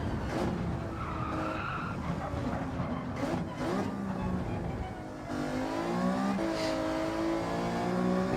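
A car skids and rotates during a Gran Turismo 7 daily race, its engine droning steadily under continuous tire squeal, close and loud throughout with no pause.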